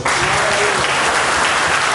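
A church congregation applauds during an evening worship service, a dense, steady wash of many hands clapping together, loud and close throughout without a break.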